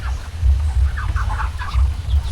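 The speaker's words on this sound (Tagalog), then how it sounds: "Nagkain na rin ang ating mga gansa." Geese honking and calling while they eat, a steady close chorus of low nasal honks throughout the short stretch.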